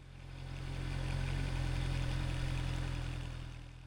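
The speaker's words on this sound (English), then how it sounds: "the motorcycle will start to move on its own" A motorcycle engine idles with a steady low putter, rising gently in loudness and then easing off.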